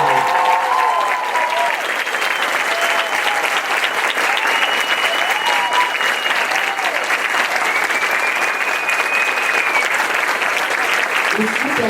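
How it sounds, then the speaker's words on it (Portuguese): An audience at a coaching seminar claps loudly and continuously, a thick steady wall of applause that holds for the whole stretch, with voices and cheers rising faintly above it. "as palmas mais fortes que vocês podem dar aqui"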